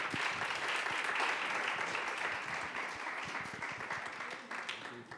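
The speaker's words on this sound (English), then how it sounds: "let's give a round of applause to our panel" Audience applause for a panel at a filmmaking conference, a steady dense wash of clapping that sustains across the clip and gradually thins toward the end, with no talk over it.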